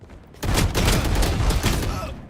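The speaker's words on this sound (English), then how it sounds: "I gotta kill with a shotgun" A burst of shotgun fire from the video game FragPunk, loud, close blasts in quick succession over about two seconds, followed by a brief tail.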